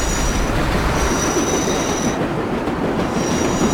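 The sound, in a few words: subway train in World of Subways 4 video game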